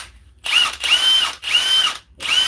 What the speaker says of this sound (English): This mid torque wrench is a bit noisy.